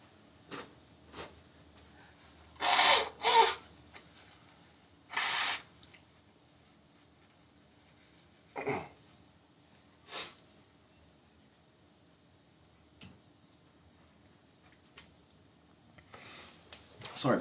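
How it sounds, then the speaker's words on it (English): Someone blows their nose in a few short, faint, breathy bursts separated by quiet pauses, with some small soft rustles in between. "I gotta blow my nose."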